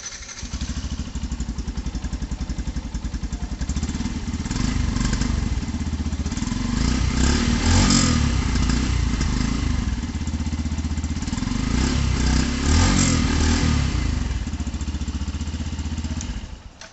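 Yamaha FZ-S V4 motorcycle (2024) idling and revving, a steady, close exhaust burble that swells through a few throttle blips, heard alone.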